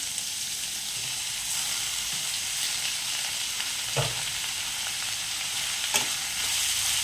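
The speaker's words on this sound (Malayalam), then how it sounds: "നമുക്കിതൊന്ന് വറുത്തെടുക്കാം" A ground masala paste for a brinjal and potato curry fries in a pan with a steady, close sizzle and occasional stirring scrapes, with no talking.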